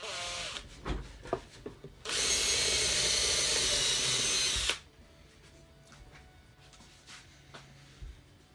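A power drill bores a hole into a subwoofer box for a car build, a loud steady whirring burst lasting a few seconds after some handling knocks, then quiet bumps and rustles.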